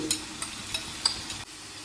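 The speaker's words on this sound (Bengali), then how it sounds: "পেঁয়াজটা মোটামুটি ভাজা হয়েছে।" Coarsely chopped onions fry in oil in a pan, giving a soft steady sizzle with a spatula scraping through them every third of a second or so, close and fairly quiet.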